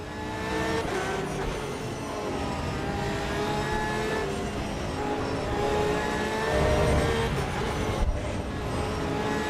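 Race car engine lapping the Nürburgring in the racing game Assetto Corsa EVO, a steady loud droning engine note with shifting pitch throughout, continuous and close, with no talking.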